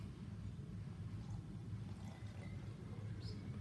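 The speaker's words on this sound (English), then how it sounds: "Now, I'm gonna fill it about halfway with water." Water pours into a container about halfway full, giving a quiet, continuous trickling splash that holds steady for a few seconds without any talk.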